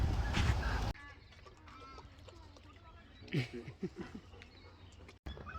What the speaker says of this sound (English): And this is the duck pond.